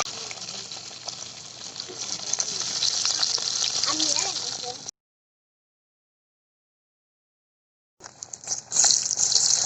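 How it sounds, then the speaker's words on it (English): Steady hiss and crackle of tilapia frying in hot oil, loud and continuous, broken by a silent gap before the sizzling resumes. "start frying"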